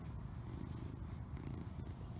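A cat purring up close outdoors, a soft, continuous low rumble, fairly faint, with quiet background noise.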